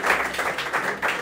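An audience claps at a live face-to-face smash-or-pass show in Congo-Brazzaville, a brief, fairly loud burst of applause in uneven pulses.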